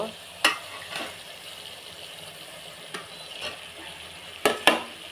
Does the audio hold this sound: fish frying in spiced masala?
yes